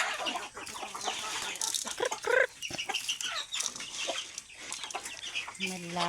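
Pet chickens, grown birds loose in a yard, clucking and calling in scattered bursts at moderate distance, with a few sharper squawks and some rustling amid steady outdoor background noise.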